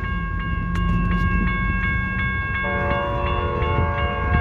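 An Amtrak California San Joaquin passenger train passes a railroad crossing, its steady rumble and rail clatter running under the insistent ringing of crossing bells, which change pitch partway through.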